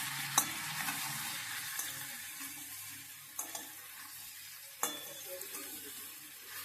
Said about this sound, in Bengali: এবার ভালো করে আরও নাড়াচাড়া করবো